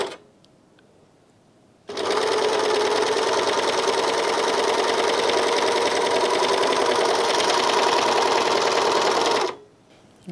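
A Janome 644D serger gathers fabric on a differential feed setting of 2.5 while trimming a little off the edge, a steady, loud, dense mechanical whir running unbroken for about eight seconds, then stopping.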